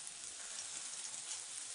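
Steady, dense sizzle of garlic shoots, cumin and mustard seeds frying in hot oil in a kadai, continuous and fairly close with no talking.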